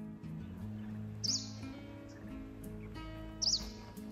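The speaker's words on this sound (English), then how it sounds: "Can you hear bird tweeting?" Birds tweet in the tea-covered Munnar hills of Kerala, two brief high chirps a couple of seconds apart, faint over a steady background of music.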